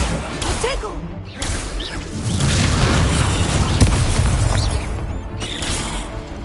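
Confringo blasting spell explosions in a Harry Potter video game, heavy booming blasts and crashing debris with rumbling low end, mixed with game voices and effects throughout.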